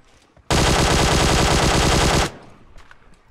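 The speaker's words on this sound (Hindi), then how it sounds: "मैंने बहुत गोली चलाई यार" A single sustained burst of automatic fire from a QBZ rifle in PUBG Mobile, very loud and rapid, lasting nearly two seconds before stopping abruptly into quiet background.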